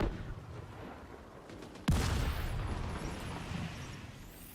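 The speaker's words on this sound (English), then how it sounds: "The mortar is dropping that guy's head." A single mortar blast in The Division 2 lands sharply mid-clip, a sudden boom followed by a lingering rumbling tail over quiet game ambience.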